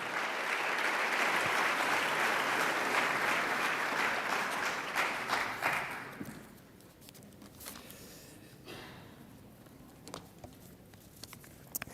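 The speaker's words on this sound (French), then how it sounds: "Merci de l'applaudir." A lecture audience applauds a speaker with dense, steady clapping that fades away after about six seconds, leaving a quiet room with a few scattered claps and small noises.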